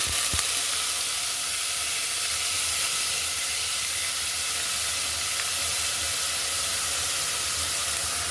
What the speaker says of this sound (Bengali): পাত্রে আমি তেল দিয়ে দিলাম পেঁয়াজ বাটা